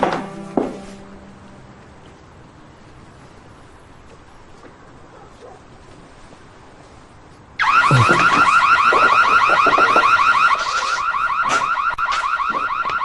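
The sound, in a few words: alarm ringing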